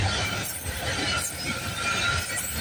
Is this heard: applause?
no